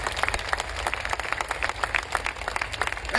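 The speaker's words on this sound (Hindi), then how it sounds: "एक जोरदार तालियां होनी चाहिए।" Loud applause from a gathered audience at a direct selling meeting, honouring AWPL founder Dr. Sanjeev Kumar; dense steady clapping fills the stretch with a low rumble beneath.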